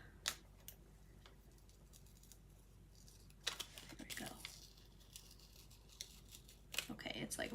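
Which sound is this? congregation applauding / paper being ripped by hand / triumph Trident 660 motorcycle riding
paper being ripped by hand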